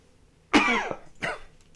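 Two coughs, one sharp and strong followed by a shorter, weaker one, close and clear against near silence.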